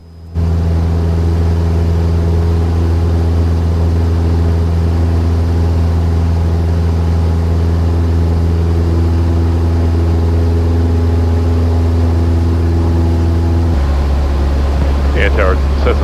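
A Cessna airplane engine drones loud and steady during the climb after takeoff, a constant close propeller roar that drops in pitch near the end.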